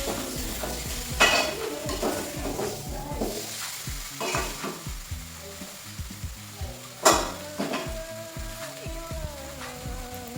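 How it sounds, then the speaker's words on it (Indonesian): Meat with spices is stirred in a pan while cooking tongseng, a goat or beef dish made without coconut milk: repeated scraping of a utensil against the metal pan and clinks of cookware over a soft sizzle of frying, with no talk. "Diaduk-aduk lagi, pelan-pelan saja sampai seluruh permukaan daging terlumuri oleh bumbu."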